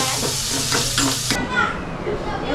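Finely chopped onion sizzles loudly in a pan of hot oil along with cumin, mustard seeds, garlic, chilli and curry leaves as it is stirred, a dense close hiss that stops abruptly about halfway through.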